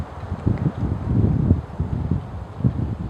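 Outdoor wind buffets a microphone in low, uneven gusts and rumbles, fairly close and fluctuating over a few seconds.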